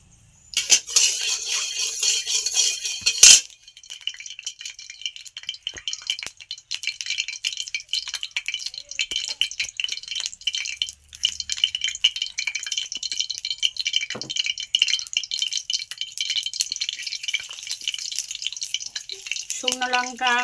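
Spices frying in hot oil in a kadai, a crackling, rattling sizzle close by that starts with a loud burst and continues steadily, with faint voices briefly heard.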